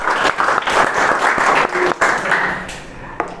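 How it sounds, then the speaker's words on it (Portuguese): A room full of people claps for someone in a loud, fairly close round of applause with uneven bursts that thins out toward the end, and a voice is faintly audible underneath. "Vamos bater uma salva de palmas para o Daniel"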